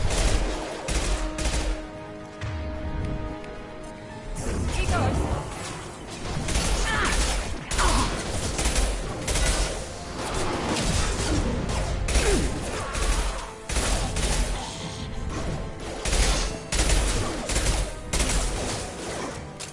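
Machine pistol fire in the Mass Effect 2 video game comes in rapid bursts and sustained volleys, mixed with mechanical clatter and impacts, loud and dense throughout with no talking.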